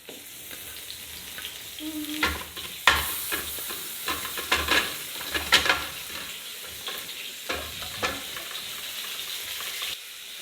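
Chicken being fried with browned onion, ginger and garlic in a pan for a Coca-Cola chicken dish: steady close sizzle with stirring scrapes and clatters, no talk.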